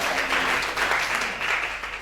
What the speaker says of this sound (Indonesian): beri tepuk tangan kemuliaan buat Tuhan